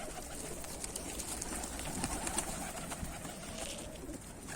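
Pet pigeons coo faintly in a loft, a soft low murmur spread through the scene beneath a steady hiss of background noise, with no talk.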